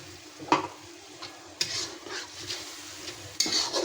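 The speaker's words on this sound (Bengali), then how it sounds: "একটু পানি দিয়ে আমি মশলাটা দশ মিনিট কষিয়ে নেব" Spice paste with fried onion sautéing in a pan with a little water for a green chilli chicken curry, a soft sizzle broken by several sharp scrapes and clinks of a stirring spoon, close and without talk.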